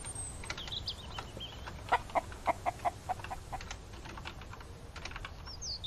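Chickens clucking in the survival game Mist Survival, a run of evenly spaced clucks mid-clip mixed with keyboard typing clatter and faint background hum, no talk.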